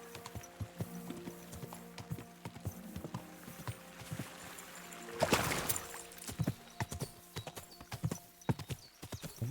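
Horse hooves clip-clop steadily along a path in Kingdom Come Deliverance 2, a close rhythmic walking gait with a brief louder burst midway and occasional snorts or whinnies.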